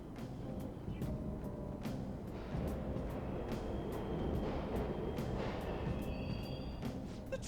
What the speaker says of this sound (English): trains are totally running.